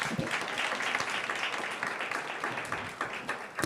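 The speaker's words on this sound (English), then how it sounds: "please give yourselves a round of applause" A graduation audience at a ceremony for a small-business digital innovation programme breaks into sustained applause. Many hands clap in a dense, steady patter that stays fairly even throughout, heard from slightly back in the hall.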